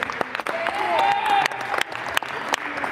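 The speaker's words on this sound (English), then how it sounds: "Guys, clap it up for the other team" A crowd claps for the opposing team at an eighth-grade boys' basketball finals trophy ceremony in a gym, with irregular, close applause and voices talking and calling out over it.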